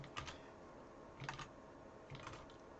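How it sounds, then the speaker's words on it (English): Quiet typing on a computer keyboard, three short bursts of soft key clicks spaced about a second apart, close and faint with no talk. "let's type this in fully."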